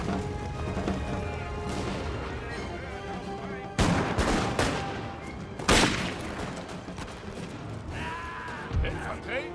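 Musket volleys and cannon fire in a Napoleon Total War battle, with irregular bursts of gunfire over a continuous din and several louder sharp blasts standing out, a voice talking over parts of it.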